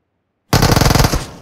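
Uzi submachine gun fire in the PUBG Mobile battle royale game: after half a second of silence, a loud, close, rapid automatic burst of about a dozen shots rattles for roughly a second before tailing off.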